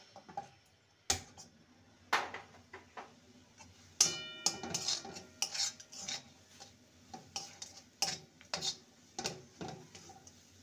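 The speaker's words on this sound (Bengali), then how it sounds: "ভালো করে নেড়ে নিতে হবে।" Semolina patty filling is stirred in a pan over a low flame, a quiet series of rasping scrapes and light metallic taps repeating irregularly, close and faint.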